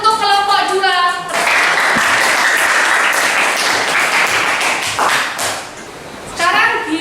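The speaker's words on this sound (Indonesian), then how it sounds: "Kita berikan tepuk tangan untuk kelompok 2." Classroom applause for a student group after a chemistry lab presentation on electrolyte solutions, loud steady clapping from many students lasting several seconds, with a voice speaking before and after it.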